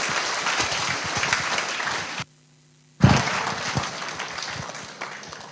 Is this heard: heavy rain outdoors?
no